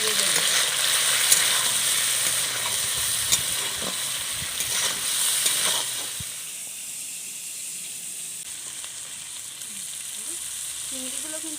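Potato, pointed gourd and prawns fry in a pan with a loud, continuous sizzle and occasional scraping stirs, the frying easing to a quieter hiss partway through.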